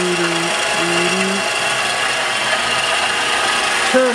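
A homemade CNC mill's motor turns, giving stepped, pitched whirring tones in short bursts that then settle into a steady mechanical hum, close and moderately loud.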